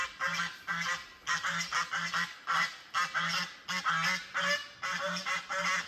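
Agitated geese just shut into a pen honk loudly and repeatedly in bursts of overlapping calls, close by, with no voices.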